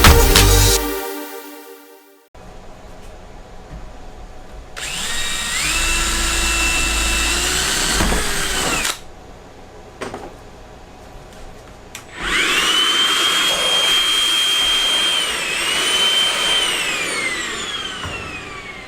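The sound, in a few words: power drill drilling a hole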